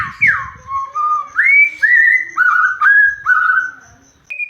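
A white-rumped shama sings a whistled imitation of the Happy Birthday tune, clear sustained notes stepping through the melody in a series of phrases, loud and close with no talk.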